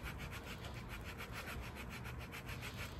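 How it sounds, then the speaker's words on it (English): Sandpaper worked by hand over the rawhide backing of a wooden self-bow, a faint, close, rhythmic scratching rub with regular back-and-forth strokes and no talking. "you're sanding the rawhide because you're opening up the pores"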